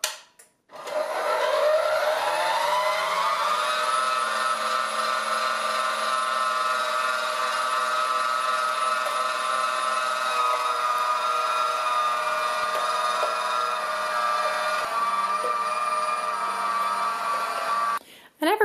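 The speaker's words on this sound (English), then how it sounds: "We're gonna plug in the grinder, get your meat catcher bowl, and I'm gonna turn it on and let it start running." An electric meat grinder grinding venison starts up with a rising whine, then holds a loud steady mechanical hum for most of the stretch before cutting off at the end.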